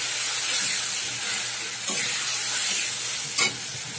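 Grated tomato and ginger sizzle in hot oil for a tangra fish curry, a steady bright hiss broken by a couple of sharp stirring scrapes.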